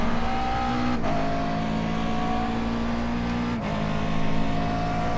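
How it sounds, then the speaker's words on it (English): Corvette C6R race cars on the Sebring circuit in iRacing, a loud sustained engine drone with shifting pitch as cars close in and sweep past, with brief gear-change dips. "the Corvette C6Rs come flying up behind us"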